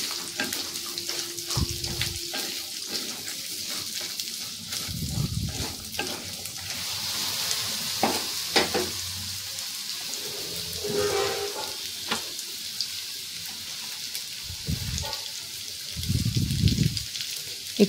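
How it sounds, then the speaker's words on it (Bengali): Potatoes and carrots fry in a pan after the spice tempering, giving a steady sizzle broken by stirring scrapes and a few low thumps from the pan, heard up close with no talking. "ফোড়নটা ভাজা হয়ে গেছে, আলু আর গাজরটা দিয়ে দিলাম। এবার আলু আর গাজরটা ভালো করে ভেজে নেব।"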